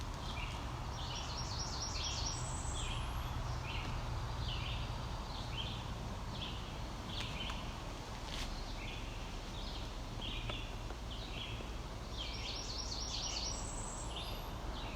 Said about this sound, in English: Can you hear the red-eyed vireos in the background?